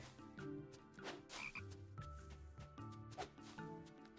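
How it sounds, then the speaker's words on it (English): A frog in Everafter Falls croaks several times in a steady series, soft and fairly quiet over gentle game music. "Oh, frog!"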